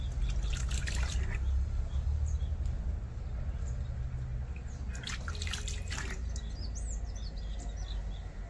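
Hot water splashes and trickles steadily as a cow is washed in a farmyard on a cold day, with bursts of pouring and dripping and faint birdsong in the background.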